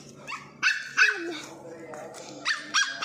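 A dog gives several sharp, high barks and yips spaced across a few seconds, close and fairly loud, with people talking over and between them.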